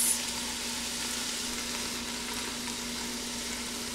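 Garlic, leeks, artichokes and Brussels sprouts fry in a Ninja Foodi, giving a steady, close sizzle with a faint constant hum underneath.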